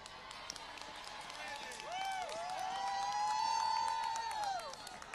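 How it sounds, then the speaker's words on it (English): Applause and cheering from a union rally crowd in New York City, heard at a distance and fairly soft, with steady clapping and a long, wavering whoop rising over it. "You can applaud for yourselves more than that"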